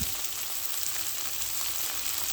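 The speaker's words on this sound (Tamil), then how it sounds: "மாங்காய் போட்டு நல்லா கிளறிட்டு" Mango pieces fry in a pan for mango rice, giving a loud, steady, close sizzle that hisses without a break and carries faint stirring within it, with nobody speaking.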